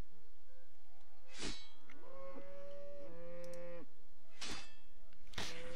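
A cow in the video game RuneScape gives a long, drawn-out moo, with a few sharp clicks before and after it.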